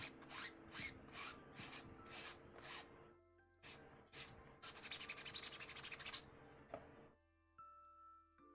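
Plastic cosplay armor is sanded by hand in a rapid series of close, scratchy rubbing strokes, broken by brief pauses, with no talking.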